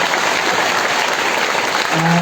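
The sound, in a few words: audience applauding loudly for volunteers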